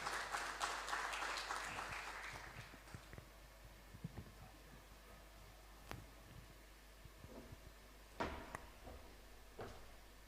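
An audience at a Malawi agricultural biotechnology forum launch applauds, a fairly faint wash of clapping that fades after a few seconds into scattered claps and a quiet room.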